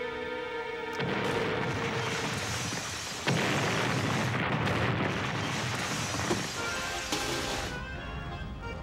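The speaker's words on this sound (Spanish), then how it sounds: "Bastante bien para una explosión falsa." A staged fake explosion: a loud, sustained roaring blast with crackling debris, surging in bursts for several seconds before fading; no voices.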